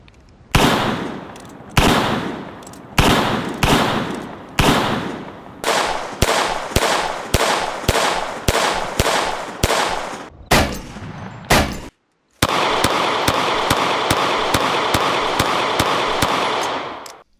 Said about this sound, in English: combining the sounds of original 19th century weapons with the bass, volume and loudness of modern weapons